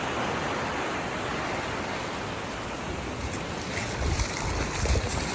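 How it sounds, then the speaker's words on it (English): Ocean waves roll in on a Puerto Rico beach as a steady broadband wash of surf, with a slightly louder, rumbling surge near the end and no voices. "See the waves coming in."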